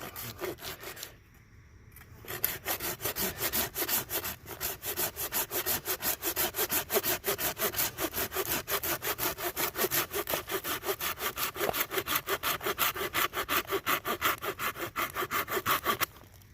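A Silky Outback folding saw cutting through a gnarly, resin-packed fatwood knob, with fast, steady, rhythmic rasping strokes that continue close and loud after a brief pause near the start.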